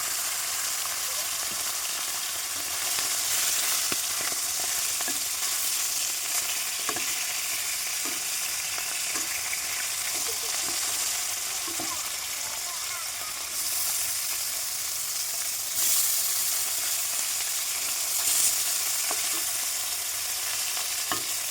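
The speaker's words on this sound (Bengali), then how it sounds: "এদিকে মাছ ভাজাটা হতে থাক" Fish rubbed with salt and turmeric fries in a pan with a steady, close sizzling hiss that runs unbroken throughout, with a few faint clinks and stirring sounds underneath.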